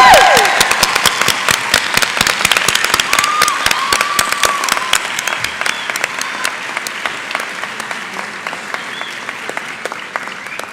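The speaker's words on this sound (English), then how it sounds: "Please give a round of applause to all the grade 10s." An audience applauds grade 10 students at a school celebration of learning in Qatar, with dense, loud clapping that fades slowly over about ten seconds as scattered claps thin out.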